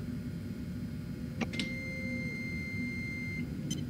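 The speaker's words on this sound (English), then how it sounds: "Is this a microwave? I think it's ready." A microwave in a video game gives a couple of short electronic beeps, followed by a sustained tone, over a steady low background hum.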